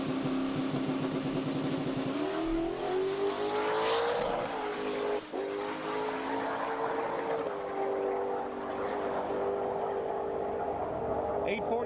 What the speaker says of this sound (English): you can hear me like pushing through the brakes just to like keep the motor loaded up